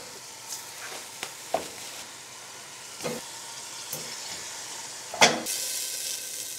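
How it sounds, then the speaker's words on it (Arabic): Beef trotters searing in hot ghee in a pot, a low steady sizzle punctuated by several sharp spitting crackles and one louder hissing burst near the end, close and with no talk over it. "سمنه سخنت كده، احط الكوارع تاخد تشويحه"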